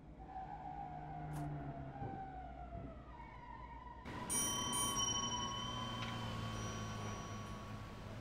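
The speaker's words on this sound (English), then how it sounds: "The slam door did ring the bell, ding ding." A bell sounds on a Blackfriars to Sevenoaks train as a slam door shuts, a faint ding ringing out over steady low rumbling carriage noise and tonal motor hum.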